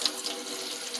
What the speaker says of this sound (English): Then I rinse.